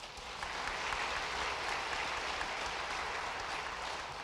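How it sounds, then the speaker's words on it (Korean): A church congregation applauds to welcome a visiting missionary during a Sunday worship service, a steady wash of clapping from many hands, fairly soft and distant, filling the whole stretch without a break. "큰 박수로 환영하겠습니다"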